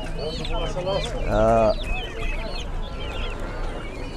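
Turkeys at a busy poultry and livestock market in Sokuluk give short warbling calls, with one louder gobble-like burst in the middle. Other birds and a murmur of people talking sit behind them.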